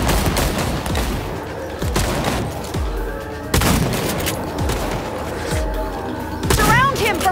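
Rapid gunfire in the video game Cyberpunk 2077 bursts out in heavy volleys with booming impacts, loud and close, through a police shootout. Shouting voices come in between and under the shots.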